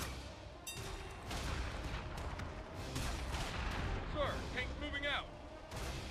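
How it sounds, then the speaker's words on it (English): Artillery barrage in the video game Battle Battalions, with repeated booming impacts and crackling gunfire in a dense battlefield mix, heard under ongoing voices. "Artillery barrage."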